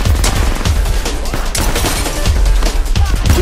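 Sustained gunfire in the Apex Legends video game, dense rapid bursts of shots and booms filling the whole stretch at close range, loud and continuous with no clear talk over it.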